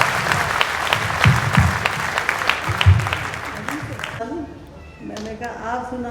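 An audience at a Hindi kavi sammelan poetry gathering claps steadily for several seconds before the applause dies away and a voice speaks alone.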